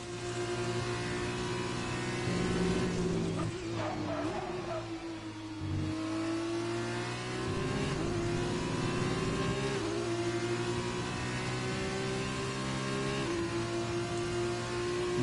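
Formula 2 race cars at Bahrain whine past with steady high-revving engine notes that rise and dip through gear changes, one car close and loud with others nearby, running continuously over fifteen seconds.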